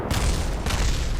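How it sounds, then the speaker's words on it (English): A booming rocket explosion from Kerbal Space Program, loud and close, with a sharp blast that rolls into a rumbling burst and a second surge, all in about a second. "Explosions and disasters."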